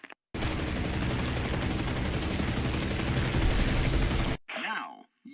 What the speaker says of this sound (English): Your machine guns and cannons are perfect for hitting like armor protection. Use them to destroy the truck.